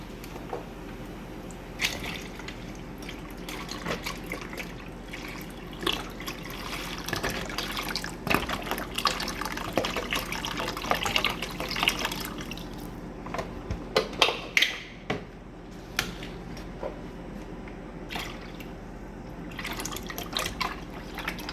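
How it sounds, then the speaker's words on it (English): Chicken broth is poured from packs into a pot of water for homemade pho, giving a steady liquid splashing and trickling with scattered drips and a few louder glugs near the end. "then we're gonna add our 2 packs of chicken broth"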